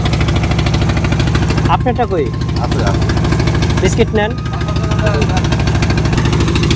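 A moving boat's engine on the Padma river drones steadily with a low rumbling throb up close, while people talk briefly over it.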